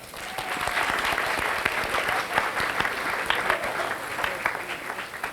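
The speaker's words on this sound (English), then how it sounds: "Let's all give them a round of applause." A dense, sustained round of applause from the audience at a 1995 church variety show at First Parish Unitarian Universalist Church in Bridgewater, Massachusetts, holding steady and loud throughout.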